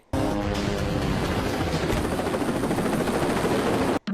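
A helicopter roars close by, loud and constant with a rapid thudding rotor beat, filling the whole stretch before cutting out briefly at the end.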